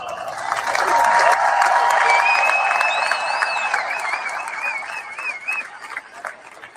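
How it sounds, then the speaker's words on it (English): An audience claps for performers on stage, loud at first and then thinning out toward the end, with thin high tones ringing over the clapping. "So please join with me in a big round of applause."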